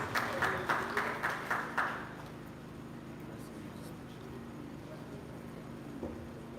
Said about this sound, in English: A round of applause for his keynote address.